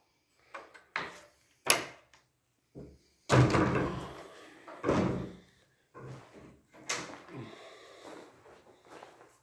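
An old rusty door in an abandoned house is worked open with a run of thuds, bumps and scraping knocks, while someone speaks quietly between them.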